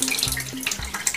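Watering plants in the farming video game Citampi Stories, a short splashing, trickling water effect with a few bright droplet sounds over a low game music tone, with no talking.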